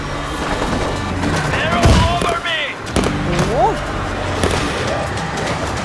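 Gunfire and explosive bursts from the zombie shooter World War Z Aftermath, Moscow level, crackling continuously under busy game noise while a player talks in Thai.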